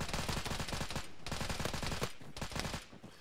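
Arma 3 mortar fire and explosions in a military simulation firefight, heard as a steady barrage of dense, loud blasts and crackling gunfire with two brief lulls.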